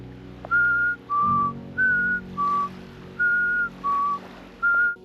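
A person whistles a series of seven short, clear tonal notes in a steady rhythm, alternating between higher and lower pitches, close and loud.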